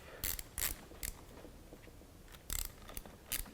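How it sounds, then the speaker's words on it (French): A ratchet wrench tightens the cylinder head nuts over copper washers on a Yamaha YZ 125 two-stroke during an Athena cylinder kit install, giving quiet, close bursts of rapid clicking separated by short pauses. "Donc on serre la culasse toujours en croix bien sûr."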